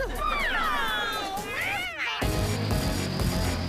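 A person mimics a cat with a long, wavering meow, followed by a burst of crowd noise and laughter.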